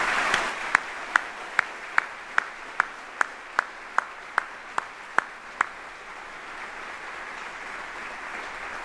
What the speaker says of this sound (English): I'd like a big round of applause for Beth Stitt.